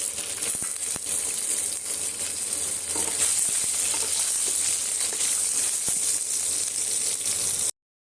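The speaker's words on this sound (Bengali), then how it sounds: "ফোড়নটা ভাজা হয়ে গেছে, এর মধ্যে দিয়ে দেব ভিজিয়ে রাখা ছোলাগুলো।" Soaked chickpeas frying in a hot spice tempering give a steady, close sizzle with scattered crackles and pops running throughout, with no voices over it.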